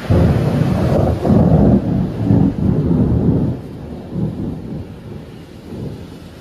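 Thunderstorm over Amiens, with heavy rolling thunder rumbling loud and low for several seconds before easing off into quieter distant grumbles, and a constant wash of rain running beneath it.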